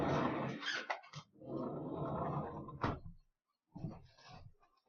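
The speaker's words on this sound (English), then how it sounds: "I'm going to have to let my dog out" A pet dog growls and barks loudly at close range in long rough bursts, with a brief pause before a final growling stretch.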